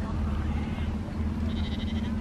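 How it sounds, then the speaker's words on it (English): A sheep bleats a couple of times from behind a fence over a steady low background rumble, fairly close by. "at the fence looking at sheep"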